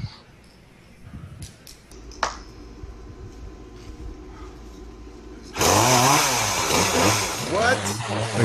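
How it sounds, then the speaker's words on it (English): At a talent show audition a chainsaw starts midway and roars loudly with revving, wavering pitch, following quieter stage handling noises and some speech beforehand. "Oh, he's got a chainsaw."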